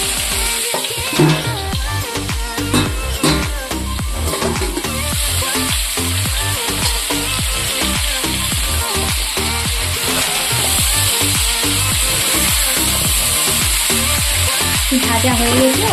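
Potato and pumpkin pieces fry and are stirred in a pan, a steady close sizzle running throughout with frequent scraping and tossing knocks from the stirring, no voices over it.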